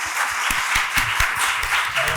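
Audience at the close of a legal conference on procedural reform applauding, a steady, close, dense patter of many hands clapping with no talk over it.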